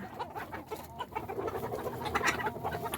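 A drake duck scuffling with roosters in a backyard flock, heard as a busy mix of clucking, squawks and flapping, fairly close and continuous, with no talking over it.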